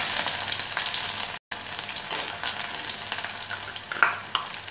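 Chopped garlic frying in hot oil for a Kottayam-style Kerala prawn curry: a continuous close sizzle with stirring scrapes and a brief dropout near the middle, and no talking.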